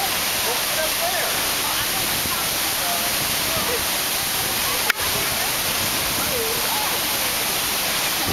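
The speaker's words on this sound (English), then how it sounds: "this would be on anybody's bucket list to be here at Fortuna Waterfalls outside of La Fortuna, Costa Rica" La Fortuna Waterfall outside La Fortuna, Costa Rica, roars as a constant, dense wash of falling water, loud and steady throughout, with one brief click near the middle and no talk.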